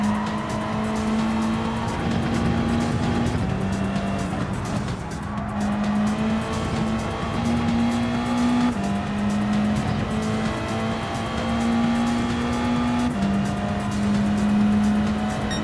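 A race car in a racing video game laps continuously, its engine droning in long steady tones that shift pitch at each gear change, with tire squeal and skidding woven through at moderate loudness.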